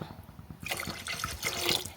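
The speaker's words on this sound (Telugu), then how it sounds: "మనకి ఎంత కావాలో అంత వాటర్ వేసుకుందాం" After a brief quiet moment, water starts pouring steadily into a pot of sambar with tamarind and lentils, splashing and gurgling close by.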